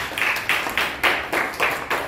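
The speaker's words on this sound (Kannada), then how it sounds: "ವಿಶೇಷವಾಗಿ ಅವರಿಗೆ ಒಂದು ಚಪ್ಪಾಳೆ ಮೂಲಕ ಸ್ವಾಗತವನ್ನು ಬಯಸ್ತೇವೆ" Audience at a yoga camp clapping to welcome a guest, about seven quick bursts of applause repeating in a steady rhythm, fairly loud and close with no voices.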